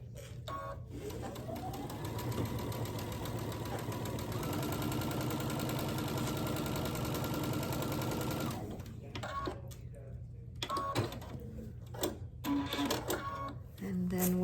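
A sewing machine stitching a quarter-inch quilt seam, a steady whirring hum that speeds up and then runs evenly for several seconds before stopping, followed by softer handling clicks and brief talking.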